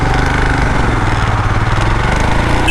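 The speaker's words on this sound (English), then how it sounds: "Don't want to pull away too quick, I might even wheelie." A motorcycle engine runs loud and close, a dense, steady rumbling throb pulling away, with no voices over it.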